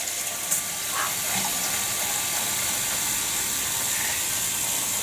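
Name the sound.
water being poured into pot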